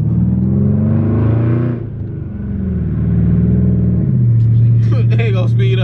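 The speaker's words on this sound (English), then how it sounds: "There we go. There it is. Our RPM's up real quick." A Dodge Charger SRT8 engine revs up quickly, its deep harmonic roar rising and falling loud and close inside the car, with talk over it.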